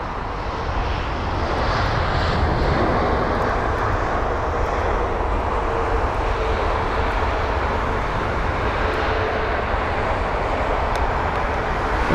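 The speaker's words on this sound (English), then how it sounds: "It's the A320neo from Berlin. Here it is." An Airbus A320neo jet airliner on arrival from Berlin at London Heathrow, a continuous loud, broad engine roar that holds steady for several seconds, heard alone without talk.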